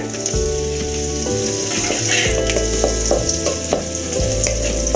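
Cashews and raisins fry in ghee for sakkarai pongal, with a steady close sizzle and light stirring scrapes under a low, sustained hum, and no talking.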